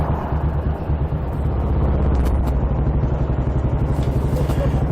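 A motorcycle rides along a road in Scotland, near Gretna Green, its steady engine drone loud and close with rushing wind throughout.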